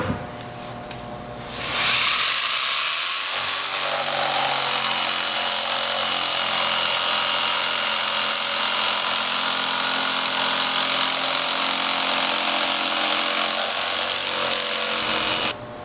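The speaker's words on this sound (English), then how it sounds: "so we're going to jig this out so that when we hit the router table, there's not a whole lot of material we have to take off" A power jigsaw cuts through material for a car audio spare tire enclosure, starting abruptly after a brief quiet lead-in and then running as a loud, continuous high-pitched whine right to the end, with no talking.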